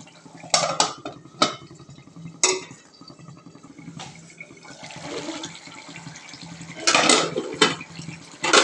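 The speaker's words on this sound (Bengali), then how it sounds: "ধনিয়া পাতা করে নাড়াচাড়া করে নিচ্ছে।" A spoon stirs tengra fish curry with coriander leaves in a metal pot, giving scattered scrapes and clanks against the pot, with a soft bubbling, sloshing background between them.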